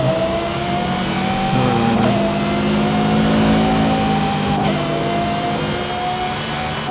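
Racing car engine in a video game, a car said to sound like a V10 Formula 1 engine, droning loud and close with a high sustained tone that rises and shifts as it revs, alone without talk.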